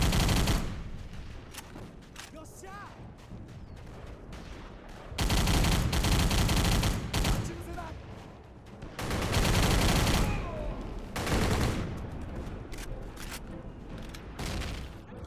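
Automatic weapon fire in trenches in the Battle for the Pacific video game: heavy bursts of rapid shots, with quieter intervals of distant gunfire and faint battle chatter between the loud volleys.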